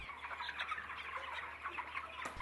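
Chickens cluck steadily on a village poultry farm, a close, continuous chorus of short overlapping clucks and calls with no voices.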